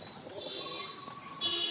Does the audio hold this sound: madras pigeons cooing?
yes